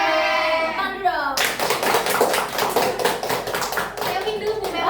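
A group of students in a group counseling session breaks into brisk, close clapping right after a woman's brief spoken prompt, the claps keeping up a fast, even patter until the end.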